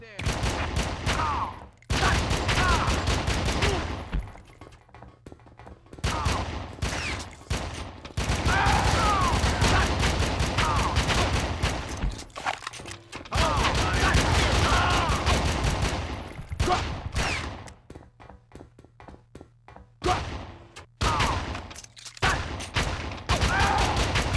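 Turret gunfire in a 2001 PS2 video game: loud, sustained bursts of rapid shooting fill most of the stretch, broken by a few short pauses, with game voices calling out between volleys.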